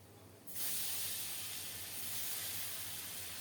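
Prawns coated in turmeric and salt hit hot oil with a sudden loud hiss at half a second, then a steady, close, broadband sizzle runs on unbroken to the end, no voices.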